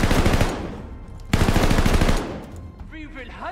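Call of Duty: Vanguard machine gun fire on PS5, two loud sustained automatic bursts back to back, then a voice speaking as the shooting stops.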